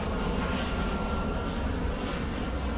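EasyJet airliner passing overhead near a flight path, a loud continuous engine roar with broad rushing noise that swells slightly as it goes over, no talking.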